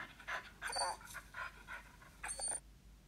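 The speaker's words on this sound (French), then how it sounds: "C'est un chien." A dog pants in quick, breathy bursts, fairly close and alone, with a few faint whimpering tones mixed in.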